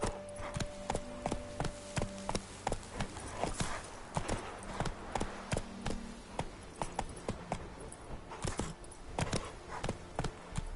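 Roach, the horse in The Witcher 3 video game, gallops with steady, rhythmic clip-clopping hoofbeats that run evenly and close-up throughout. A low ambient hum sits underneath.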